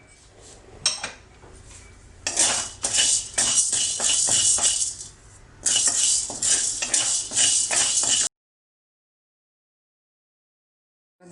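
Urad dal being dry-roasted and stirred in a pan with a metal spoon, steady close scraping and clinking with brief pauses, then silence at the end.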